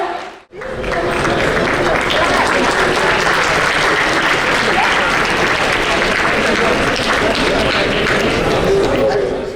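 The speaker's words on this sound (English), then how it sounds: "Give me a standing ovation and a good round of applause, please" A convention audience of physicians gives a standing ovation: after a brief pause, loud, dense applause from a large crowd fills the hall and holds steady throughout.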